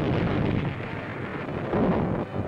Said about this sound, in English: The seas are peppered with gunfire to protect our vessels from lurking enemy submarines.